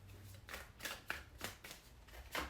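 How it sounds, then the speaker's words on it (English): Tarot cards being shuffled by hand, a run of soft, rapid riffling bursts repeating every half second or so, close and moderately loud with no talking. "so we're going to shuffle that one back in"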